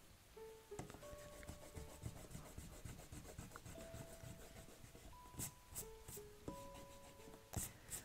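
A pencil drawing being erased by hand before watercolour, with soft, close, intermittent rubbing and scratching over paper and a few light taps, and no talking.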